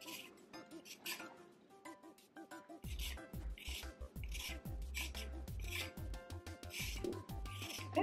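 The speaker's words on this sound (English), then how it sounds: "So we're just going to grate the carrot" Grating a carrot by hand for coleslaw: rhythmic rasping strokes, close and fairly loud, begin after a quiet opening and continue steadily under background music.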